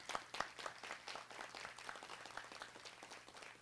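Quiet scattered applause at an ordinary council meeting welcoming new council members, a small group clapping in distinct, uneven claps, faint and close throughout.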